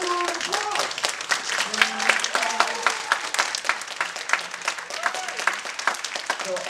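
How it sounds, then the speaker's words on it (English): Audience applause for actor Chapman To at a film festival Q&A, steady clapping from a seated crowd with a faint voice over the top, moderately distant and even throughout. "Come on, applause."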